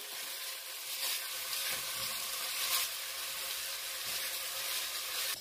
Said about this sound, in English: I'm going to add my onions. I'm just going to saute them until they're clear.